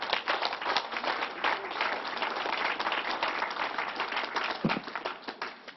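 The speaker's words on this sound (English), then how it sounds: "Let's give the Reverend another round of applause." A crowd at a public event with the governor in Syracuse gives a reverend a round of applause, dense and sustained clapping that swells, eases, then surges again near the end before fading.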